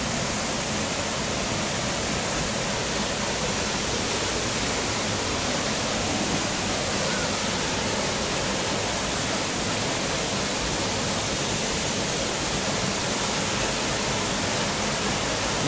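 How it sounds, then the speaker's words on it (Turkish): Cool stream water flows strongly into a lake in Şenpazar, Kastamonu, making a steady, loud broadband rush with no pauses or other sounds. "Suyu çok serin. Muhteşem güzellikte akıyor."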